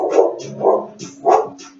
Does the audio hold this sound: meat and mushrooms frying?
no